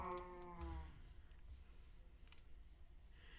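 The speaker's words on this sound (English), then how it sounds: "Oh, hello there, Mr. Cow." A single low cow moo from the video game Minecraft, faint and brief at the start, then quiet ambient background.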